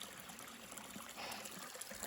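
A small stream of water trickles between rocks along a hiking trail, a faint, steady, close babble heard alone without talk.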